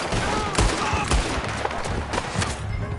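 A volley of gunfire erupts during a mounted escape in Red Dead Redemption 2, with repeated loud shots cracking out in irregular bursts over a dense, busy battle din and some voices.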